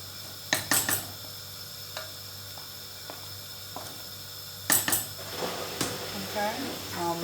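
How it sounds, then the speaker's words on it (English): Chicken noodle sweetcorn soup stirred in a pot for a Caribbean recipe, with sharp clanks of a utensil against the metal at the start and again midway, lighter taps between, over a steady low hum, and a voice talking. "give it a little stir"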